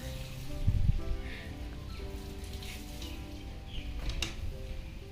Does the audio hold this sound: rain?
yes